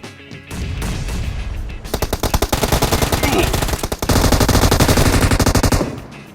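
Automatic gunfire in the video game PUBG Mobile: loud, rapid bursts of machine-gun fire in long sustained volleys, briefly pausing mid-clip before another heavy burst.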